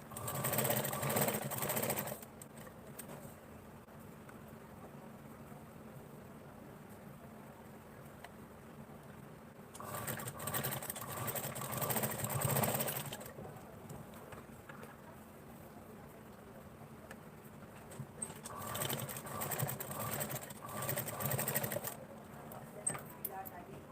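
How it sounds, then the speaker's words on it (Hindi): A sewing machine stitches a straight seam with a size-5 stitch setting, running in three loud bursts of about two to three seconds each, separated by quieter pauses with faint background noise. "तो मैंने यहाँ पर 5 नंबर की सिलाई लगा ली है एकदम स्ट्रेट यहाँ तक।"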